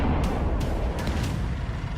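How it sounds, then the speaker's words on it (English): Deep, continuous rumbling of Ukrainian artillery fire in battle with a few faint sharp cracks in the distance, no voices. "Ukrainian artillery opened fire immediately"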